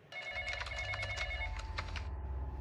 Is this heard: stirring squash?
no